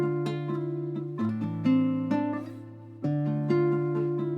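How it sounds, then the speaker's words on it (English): Two layered clean electric guitar parts for a beat, one a melodic line and the other a counter part with transition notes, plucked notes ringing together in a steady rhythm, close and alone with no talking. "So with those two together, the guitar sounds like this."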